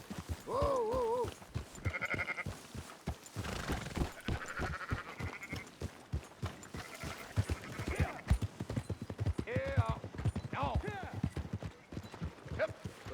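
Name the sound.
sheep bleating in video game Red Dead Redemption 2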